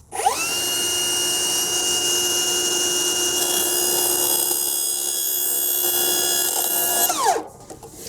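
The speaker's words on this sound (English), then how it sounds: "let's see how this cuts with a 24 tooth 7¼ I'm gonna let it wind up real good and go slow." A circular saw fitted with a 24-tooth 7¼-inch blade winds up to a loud, steady high whine while slowly cutting thin material, then spins down abruptly near the end with a brief quieter tail.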